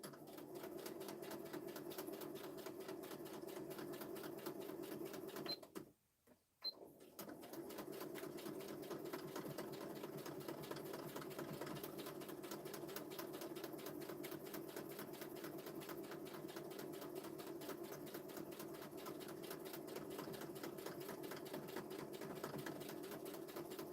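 Continuous rapid mechanical chatter of a sewing machine stitching during a craft project, steady rhythmic needle pulses running close and quiet, with one brief stop partway through before resuming.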